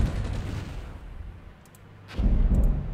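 Artillery fire in the wargame Armored Brigade: a heavy rumbling boom fades out, then a second loud, deep blast lands near the end, alone without talk.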